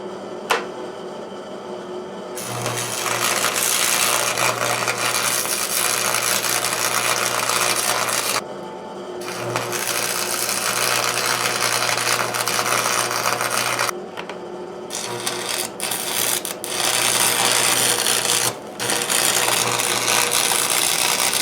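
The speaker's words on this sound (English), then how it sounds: "Okay, it's welding time. Time to weld." Welding on an electric vehicle build gives long stretches of loud, steady crackling buzz with a low hum beneath, broken by short gaps and a few quick stop-start bursts near the end.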